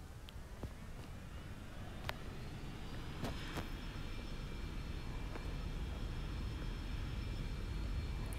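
A simulated Cirrus jet spools up for takeoff with flaps at 10, a steady, faint engine roar and hiss that builds slightly over time, with a few soft clicks and no voices.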